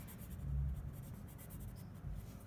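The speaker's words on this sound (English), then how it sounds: "I'm gonna take a white colored pencil, give myself a nice artist signature." A white colored pencil scratching across black paper while signing an artist signature, a soft close scratchy writing sound with short strokes, quiet and alone.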